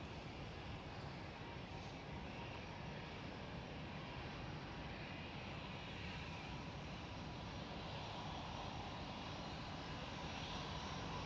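A KLM Boeing 777 departs on runway 24 at Amsterdam Schiphol, its jet engines a steady, broad roar heard from a distance that holds and swells slightly throughout, with no talking.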